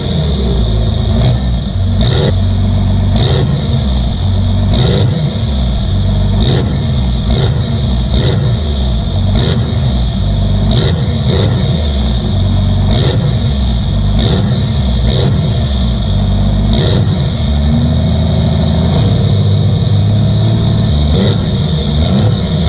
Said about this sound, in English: I'm gonna set this up and do a couple revs